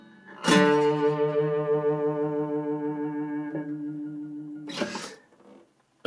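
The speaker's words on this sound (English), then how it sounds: "Distortion on an acoustic, feedback." A LAG HyVibe acoustic guitar strummed through its built-in distortion, a loud sustained chord ringing out and slowly fading, then a second harsh strum and a sharp cutoff.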